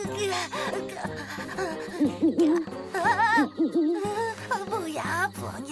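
Hooting calls in a wavering, voice-like series under a dramatized scene, sounding like a person imitating an owl's hoot rather than a real bird, with laughing tones mixed in.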